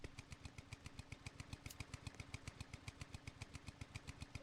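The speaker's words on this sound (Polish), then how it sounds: "Ta, jakiś motorek." A small video game engine putters steadily with a fast, even rhythm of regular pulses, moderately loud and continuous throughout, with no voices.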